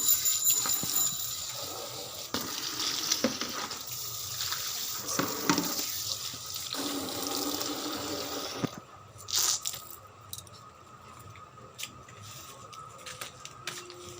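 Water runs and splashes steadily from a tap while plants are watered and hands and feet are washed, a continuous rushing with patters, stopping partway before faint birdsong and drips remain.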